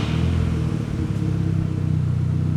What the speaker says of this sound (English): Let's start the engine, have a little listen to this.